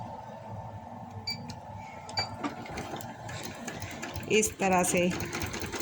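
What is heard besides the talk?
sewing machine stitching a pocket on palazzo pants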